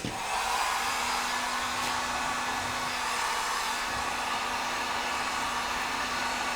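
A heat gun blows steadily to warm and soften a plastic barrel wall, giving a continuous, even, fairly loud whooshing whir with a faint low hum from start to finish and no talking.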